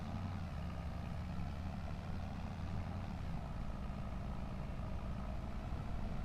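A tractor engine in Farming Simulator 25 drives around a field in Western Australia, a continuous low diesel drone at steady volume with no breaks and no voices.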